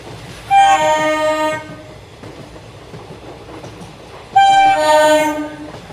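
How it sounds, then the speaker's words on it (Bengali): Two loud blasts of a cartoon train horn, each about a second long, cut through a steady rolling rumble of a passenger train on rails bound for Sealdah station, as in an animated Bengali horror tale. "ট্রেন থামবে সেই শিয়ালদা স্টেশনে গিয়ে"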